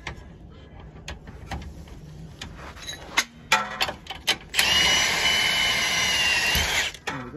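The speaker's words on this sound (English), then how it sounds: "Put the spanner behind it and then whiz it with the gun." An impact gun undoes a rear shock absorber bolt on a BMW E82 1 Series coupe, firing a few short bursts and then one sustained rattling whir up close, after scattered clanks.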